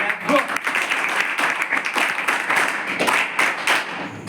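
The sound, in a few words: audience applause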